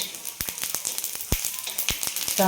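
Whole spices (black and green cardamom, cloves, peppercorns, shahjeera, cinnamon and black stone flower) crackle in hot oil for a spicy mutton dish: a steady close sizzle broken by sharp irregular pops and spits.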